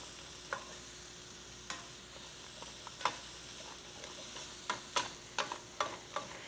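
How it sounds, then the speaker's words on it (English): Mushrooms sauté quietly in a pan, a soft continuous sizzle over a low hum, punctuated by sharp ticking taps of a stirring utensil that grow more frequent toward the end. "This should saute about 5 minutes"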